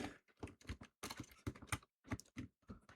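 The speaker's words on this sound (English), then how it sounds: "Press random keys, nothing happened." Computer keyboard keys pressed at random in quick irregular bursts, clattering clicks close and moderately loud with short pauses between clusters, no voices.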